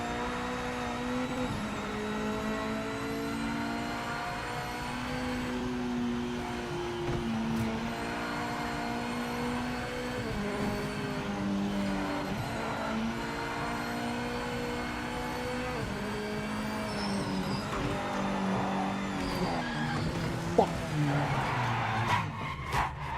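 A race car engine in Project Motor Racing, revving and shifting through gears as it drives a track, with steady droning tones that rise and fall and a brief sharp pop near the end.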